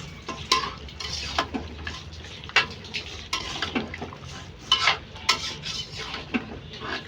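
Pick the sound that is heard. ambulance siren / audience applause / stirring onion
stirring onion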